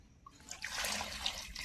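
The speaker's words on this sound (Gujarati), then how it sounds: "આપણે હરગવો કાપી લીધો છે એમાં આપણે નાખી દઈએ પાણી" Water pours steadily into a cooking pot holding cut drumstick (moringa) pieces, a soft splashing rush rising after a brief start and running on until the end, fairly quiet and alone.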